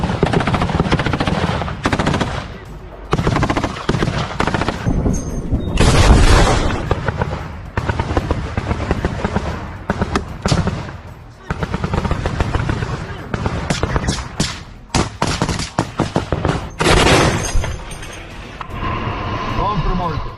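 Bursts of machine gun fire in combat footage from the war in Ukraine, loud, repeated rapid volleys with heavy blasts, nearly continuous over twenty seconds, with brief pauses between strings of shots.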